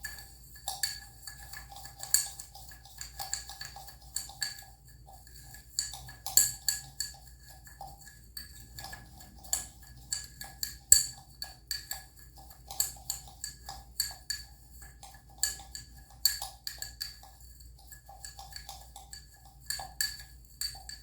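A utensil stirs rice in a little water inside a glass, making soft, scattered clinks and taps against the glass in an irregular rhythm over a quiet background hum.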